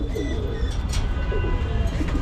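An adopted pigeon pair coos in a loft, a short run of close, rolling throaty calls repeating over a steady low background.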